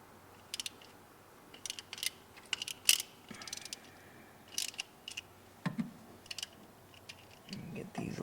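A hand ratchet works loose the bolts holding a diesel injector on a 7.3 Powerstroke engine, giving short bursts of clicking separated by pauses. The clicks are close and fairly faint over a low background, with some handling noise.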